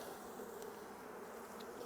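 Honey bees buzz around an opened hive, a dense steady drone of many wings, close and continuous with no talk.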